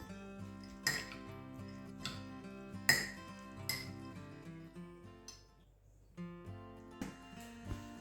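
A spoon clinks against a bowl while toasted pine nuts and extra virgin olive oil are mixed into gremolata, sparse ringing taps and scrapes at low level, with a brief quiet gap.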